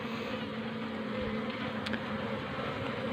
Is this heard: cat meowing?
no